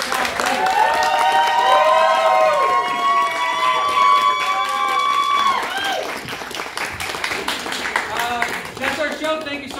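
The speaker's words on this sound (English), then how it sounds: "One more time, quick clap, please." An improv show audience claps and cheers loudly at the close of the performance, with bright voices and whoops riding over steady applause that fades toward the end.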